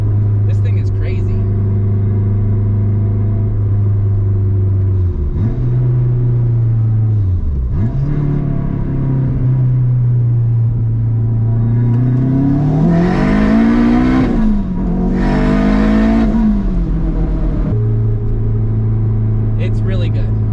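A loud turbocharged all-wheel-drive Acura RSX engine roars close by, its pitch climbing hard through the gears with brief dips between surges of acceleration.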